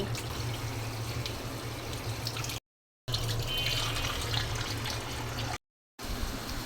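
Tap water runs steadily over a large rohu fish being washed in a sink, a continuous close gush broken by two brief gaps, with a low hum underneath.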